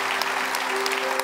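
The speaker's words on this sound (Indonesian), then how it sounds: "Tepuk tangan buat mereka berdua." Studio audience applause for two children, a steady bed of many hands clapping at moderate loudness, with a faint steady tone running underneath.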